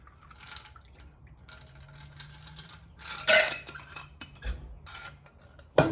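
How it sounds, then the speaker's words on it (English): An Old Fashioned cocktail strained out of a shaker with a lid strainer and poured over a single large ice cube, giving soft liquid trickles, a burst of pouring mid-clip and a sharp clink of ice and glass at the end. "You can pour it over your big ice cube."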